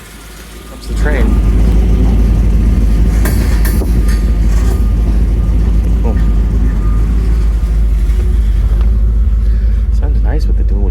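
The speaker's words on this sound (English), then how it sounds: "Comes the train." A train rolls past with a steady, loud low rumble and rattling rail noise that swells suddenly and holds throughout, drowning the surroundings while someone speaks briefly.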